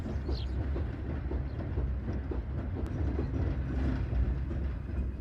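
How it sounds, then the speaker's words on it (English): A mineral train rumbles across a viaduct at a distance, a steady low roll with faint rhythmic clatter of wagons crossing, no voices. "Look, there's a train on the viaducts."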